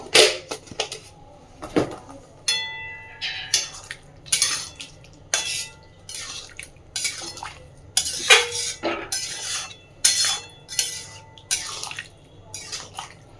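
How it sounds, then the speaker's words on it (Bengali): Cauliflower and prawn curry, dusted with garam masala, being stirred in a pan with a spoon: repeated clinks and scrapes against the metal in an irregular rhythm, up close and fairly loud, with no talking. "সবকিছুকে এবার খুব ভালো করে একটু মিশিয়ে দেব।"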